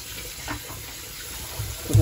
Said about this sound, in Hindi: हाथ धो के